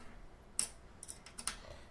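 Thumb screws come off the front door of a Cubitek Magic Cube PC case in a few sharp, faint metallic clicks and ticks spaced irregularly over a quiet background.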